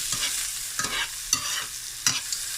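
Garlic, green onion and the white part of leek fry in butter in a pan while being stirred, giving a steady close sizzle broken by four rhythmic scraping strokes of the spoon, with no talking.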